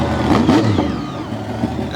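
A Toxic monster truck's engine roars and revs hard during a run at Lake Erie Speedway, loud and continuous with rising and falling pitch.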